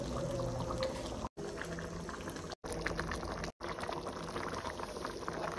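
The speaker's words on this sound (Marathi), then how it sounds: "हे बघा छान अशी उकळी आलेली आहे भाजीला" Vegetable curry, a Konkan village dish, bubbles vigorously in a pressure-cooker pot, a close, steady boiling burble broken by three brief cuts of silence, no voices.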